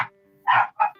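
Several dogs barking indoors in two or three quick, sharp barks, close and fairly loud against an otherwise quiet room, with no talk during the barks.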